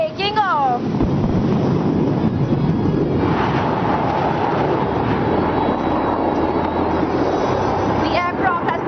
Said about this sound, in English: And there she goes, Sukhoi taking off.